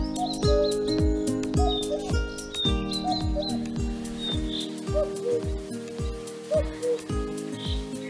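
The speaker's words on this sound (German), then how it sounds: "Im Frühjahr schwingt die Luft im Gesang unzähliger Vögel, wie der Kuckuck" Springtime birdsong over restored Ardennes habitat, clear repeated chirps and whistles layered over a rhythmic melodic music bed, fairly close and steady throughout.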